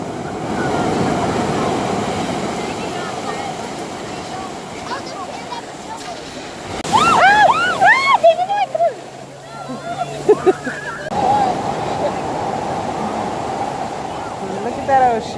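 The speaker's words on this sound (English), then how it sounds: "Look at that ocean." Ocean surf washing onto the beach at Bodega Bay, a steady broad rush heard up close throughout, with people talking over it and a brief stretch of voices and shrill cries partway through.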